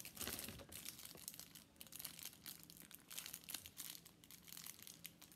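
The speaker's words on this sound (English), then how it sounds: "let's open this yellow mochi, which I'm really excited to open" Crinkly plastic packaging being unwrapped from a yellow mochi squishy toy, a dense run of close crackling and crumpling rustles that carries on steadily throughout.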